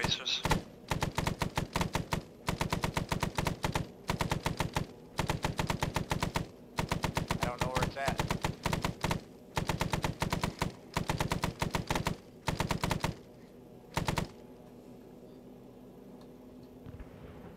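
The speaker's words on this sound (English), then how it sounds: "I'm disappointed, so I'm marking it with tracers." Machine gun in Arma 3 fires tracer rounds in repeated long automatic bursts, close and loud, with short gaps between them and a final short burst before the firing stops.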